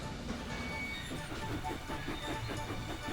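Thomas the cartoon steam engine rolls along the track with a soft, rhythmic clickety-clack and chuffing, steady and fairly faint throughout.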